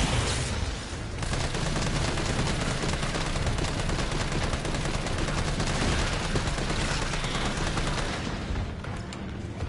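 Continuous heavy gunfire in the survival horror game Resident Evil 3, a dense, loud barrage of rapid shots and booms sustained for nearly ten seconds before easing slightly at the end.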